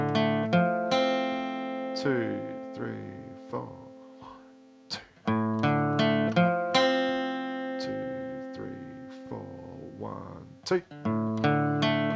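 Electric guitar picks out a lead melody, sustained, ringing notes in two repeated phrases, while a voice counts the beat aloud over the playing.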